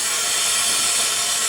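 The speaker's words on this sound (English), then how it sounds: "I'm going to turn the steam on to out here." Steam hisses steadily and loudly from the valve of a wood-fired boiler, a continuous broad rush with no break and no voices.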